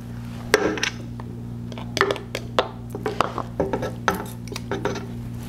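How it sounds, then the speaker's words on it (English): Utensil stirring meat sauce in a pot with clinks and scrapes against metal and glass while pint canning jars are filled, a steady low hum underneath, a dozen or so irregular taps close and moderately loud. "I'm stirring this around every time to equally distribute all the solids"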